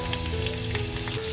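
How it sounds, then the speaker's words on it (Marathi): Garlic dropped into hot oil, a loud steady close sizzle with faint crackles and a low steady hum underneath, brief and without talking. "आपला तेल तापलेलं आहे. आता नाही इथे मी लसूण घालून घेते."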